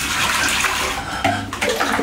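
Water is poured to flush a toilet in an abandoned building in Bandung. It splashes as a steady, loud rush with no break, close by, with a slight change in tone partway through.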